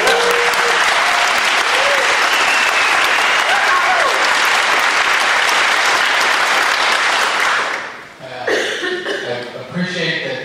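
Loud, dense applause from a debate audience at a 2014 political debate, sustained for about eight seconds before fading abruptly, followed by a few scattered claps and a voice speaking near the microphone.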